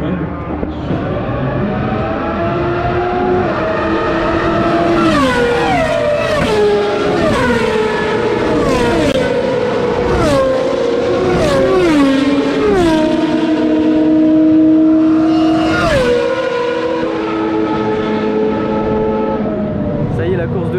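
Historic Formula 1 cars, including V10s, roar past one after another at Circuit Paul Ricard, loud engine notes climbing and dropping as each car sweeps by close.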